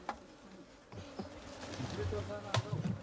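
Bees buzz around freshly opened hives, a close, swelling drone with several individual insects passing near the microphone and growing louder over a few seconds.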